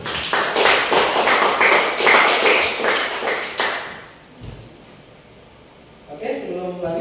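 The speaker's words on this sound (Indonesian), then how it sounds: "sekali lagi tepuk tangan" A group claps together in a classroom or training session, with loud, close, rapid clapping for several seconds that fades out, followed by a quiet pause and then a voice speaking.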